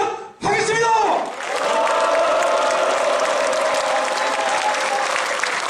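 A crowd at a national labour activists' rally bursts into loud, sustained cheering and applause after a brief spoken opening, the roar of clapping and shouting filling the hall and holding steady.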